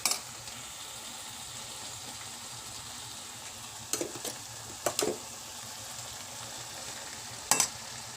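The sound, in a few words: masala paste added to chicken and stirred, sizzling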